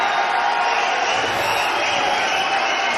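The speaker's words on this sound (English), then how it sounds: "The crowd which has come here in numbers in Dubai are absolutely ecstatic. Listen to the roar," Large, ecstatic crowd roaring steadily on the opening night of Kabaddi Masters Dubai 2018, a dense, sustained wash of cheering voices with no breaks, loud and continuous throughout.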